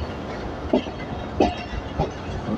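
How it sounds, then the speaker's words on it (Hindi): The Attock Safari train approaches Rawalpindi railway station, with a steady rumble and three distinct rhythmic clanks of the wheels over rail joints, fairly close. "सफारी रावलपिंडी रेलवे स्टेशन पर अप्रोच कर रही है"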